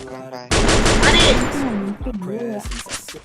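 Gunfire from the Free Fire video game, a loud rapid burst of automatic shots lasting about a second, followed by scattered single shots, with a player's voice talking over the action.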